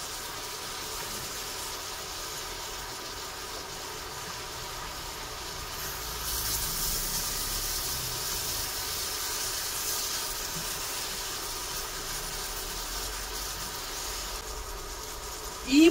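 A microwave oven running with a steady, even hum and hiss that swells slightly about halfway through and stays constant, then ends with a short sharp sound.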